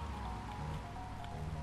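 Steady wash of rain falling in the video game GTA Vice City, an even, continuous hiss without distinct drops, moderately loud and alone with no voices.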